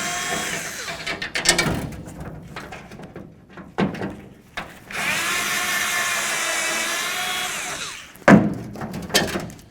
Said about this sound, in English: let's continue on by removing the rest of our mounting screws here